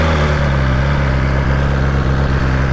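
A 2020 BMW S1000XR motorcycle engine running at a high idle right after starting, a loud, steady, close-up mechanical drone with no pauses and no talking.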